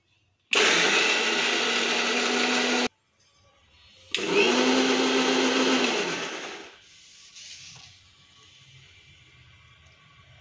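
A mixer grinder roars through two loud, steady bursts as it grinds maize with cumin and coriander, with a brief pause between them before the motor winds down to a quieter hum.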